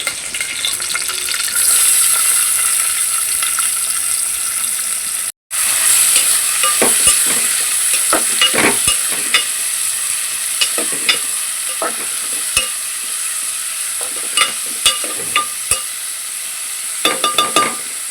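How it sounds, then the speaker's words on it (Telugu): Green chilies and onions sizzle steadily in hot oil for a drumstick curry, with a continuous close frying hiss, a brief break, and scattered light clicks of stirring; no one speaks. "ఆయిల్ వేసుకున్నానండి ఇప్పుడు పచ్చిమిర్చి వేసుకుంటున్నాను పచ్చిమిరపకాయలు వేసుకున్నానండి అలాగే ఆనియన్స్ వేసుకుంటున్నానండి"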